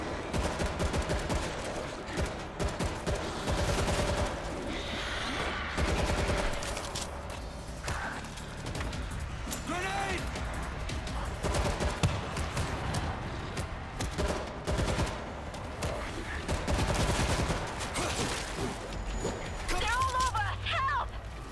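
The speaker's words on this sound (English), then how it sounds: "I got a stationary machine gun." A stationary machine gun turret fires in World War Z. Rapid bursts pound repeatedly over a chaotic zombie horde fight, with players talking throughout and other weapons going off around them.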